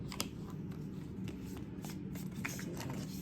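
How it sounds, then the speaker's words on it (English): Tarot cards being shuffled close by, a steady papery riffling with soft flicks throughout, no voices. "I'm going to shuffle the other ones back in."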